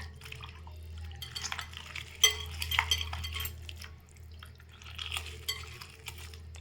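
Hands squeezing and mixing raw tamarind water with shallots, coriander leaves and curry leaves for rasam: soft wet squelching and light liquid splashing in a bowl, close and fairly quiet, with no talking.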